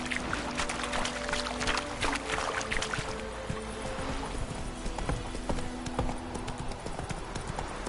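Roach, Geralt's horse in The Witcher 3, gallops with rapid rhythmic hoof clip-clops, loud and close throughout, set against ambient game sound.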